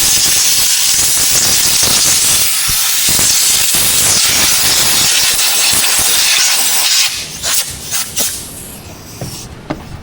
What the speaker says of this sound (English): loud noises, air pressure.